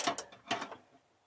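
A 14 mm wrench tightening a rear coilover bolt during a suspension install, giving two or three quick close metallic ratcheting clicks that fade into quiet.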